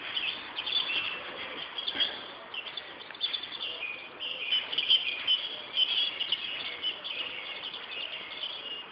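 Several birds sing and chirp continuously in bright, high-pitched phrases, overlapping at a moderate distance over a soft outdoor background, with no voices.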